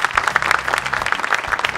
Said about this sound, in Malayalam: അപ്പൊ കോട്ടയം നഗരസഭയുടെ ടീമിന് പ്രത്യേകം ഒരു കൈയടി കൊടുക്കൂ.